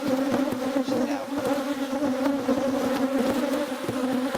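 Honeybees from an aggressive hive swarm in a dense, steady buzz, many wings droning close and loud throughout with no letup.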